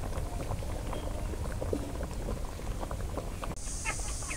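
Water boils hard in a cooking pot in a village kitchen, a continuous close bubbling and popping, and near the end a brief brighter hiss rises over it.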